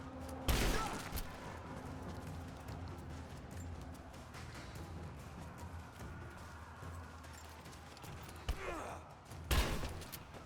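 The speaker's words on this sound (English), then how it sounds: "Grenade out!" Rise of the Tomb Raider gameplay in catacombs beneath a cathedral, with sharp loud gunfire bursts and heavy impacts that open and close the stretch, separated by a rumbling, busy combat background with faint grunts.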